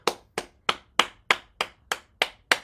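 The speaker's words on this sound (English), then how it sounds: "Let's clap." Hands clap in an even, steady rhythm during a morning exercise class, nine crisp, sharp claps about a third of a second apart, fairly close and heard alone without talk.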